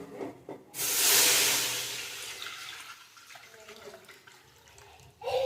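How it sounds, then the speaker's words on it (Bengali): Coconut milk from rotten coconuts poured into a hot wok for homemade coconut oil, a loud rushing hiss that swells after a moment, then fades to a quieter simmer before a brief clatter. "এই যে দুধ বেরিয়েছে এটা এখন কড়াইতে ঢেলে দেবো"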